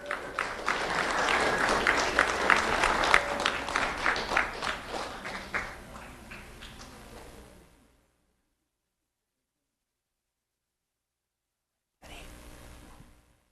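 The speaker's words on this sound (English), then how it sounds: "Let's have a round of applause for Franzer Diaz." An audience at a Lee County Sheriff's Office award ceremony claps in a round of applause for a first-grade honoree, brisk clapping that fades out and stops, followed by silence and a brief return of room noise.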